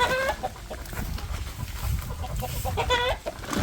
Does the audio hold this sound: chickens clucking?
yes